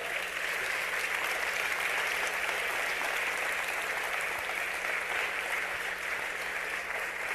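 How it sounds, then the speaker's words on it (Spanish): Church congregation applauding loudly for the Lord, a sustained, even roar of many hands clapping that fills the whole stretch without pause, with no voice heard over it. "Den un aplauso fuerte al Señor."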